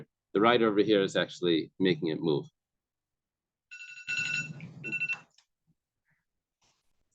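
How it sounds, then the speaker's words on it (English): An alarm rings in a few short electronic trilling bursts after someone speaks, heard at moderate volume indoors, followed by quiet. "That's the alarm."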